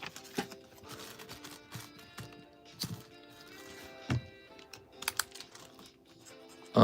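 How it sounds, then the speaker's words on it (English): A pen writes a note on a plastic card baggie at a trading-card break table, with faint scratching strokes punctuated by several sharp taps and crinkles against a quiet room hum. "I'm going to write down a note"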